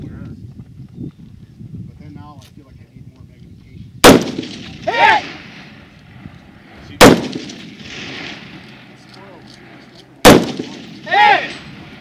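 Rifle shots on a shooting competition stage: three loud, sharp cracks spaced a few seconds apart, each followed by a brief ringing metallic echo, with people talking faintly in the background.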